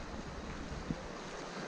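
Floodwater rushes through a washed-out road crossing after heavy overnight rain, a steady broadband roar of churning river water mixed with wind buffeting the microphone, with no voices.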